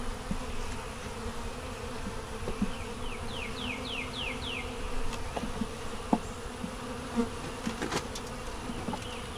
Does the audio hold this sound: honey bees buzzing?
yes